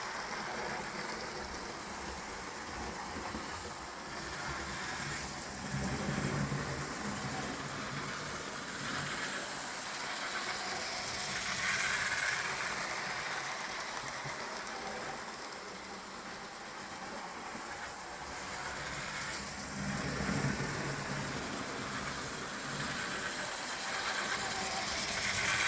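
Blue model railway locomotives run steadily along the track with a continuous whirring hiss and rail rumble, moderately loud and gently swelling in waves, with no voices.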